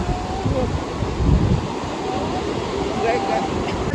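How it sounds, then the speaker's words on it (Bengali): Low rumbling wash of ocean waves on a beach at Puri with wind noise, a steady roar broken by faint indistinct voices. "সমুদ্রের যে আওয়াজ হয় সেটা শুনতে খুব খুব খুব ভালো লাগে"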